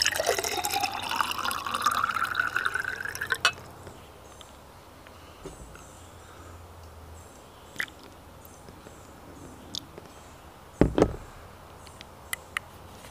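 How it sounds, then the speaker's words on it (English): Plain water pours into jars for a snake bite demonstration, a rising filling tone for a few seconds, then quiet with scattered drips and clinks. "So now that we've added water to our jars"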